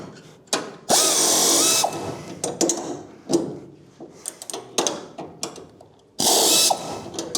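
A pneumatic tool runs on an air hose while working on a 1968–74 Chevrolet Nova, firing in short loud bursts between rattling clicks and clunks, close by with no speech.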